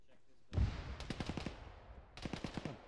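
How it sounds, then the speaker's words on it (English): A heavy boom, then bursts of rapid gunfire in a video game battle, a loud thump followed by two clusters of sharp repeated shots at mid distance. "A tank shell that just blew overhead?"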